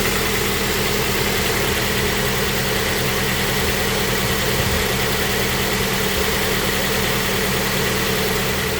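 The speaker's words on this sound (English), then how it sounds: "start the engine and let it warm up by idling" A 2010 Mazda 3 engine idles steadily while its coolant is being changed, giving a loud, even, unbroken hum and vibration with no talking.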